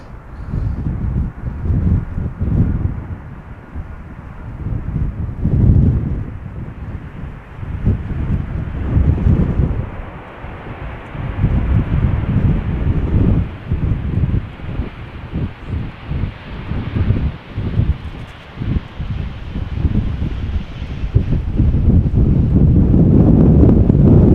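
Strong gusty wind at Amsterdam Schiphol Airport buffets the microphone with loud, rumbling roars that rise and fall continuously, no voices heard.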